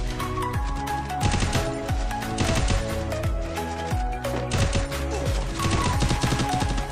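Rapid gunfire bursts from Garena Free Fire, repeated shots in quick clusters over a steady bed of game music and effects, loud and continuous with no talk.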